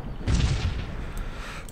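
Cannon artillery fire in the strategy video game Cossacks 3 lands as one heavy, low boom followed by a rumbling tail and scattered distant crackle, with no talk.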